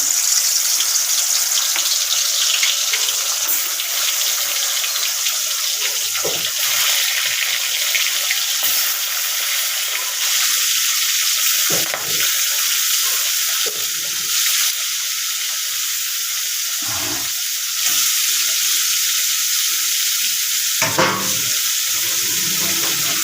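Fish frying in hot oil in a home kitchen, a steady loud sizzle that holds throughout with occasional stirring or splashing sounds on top.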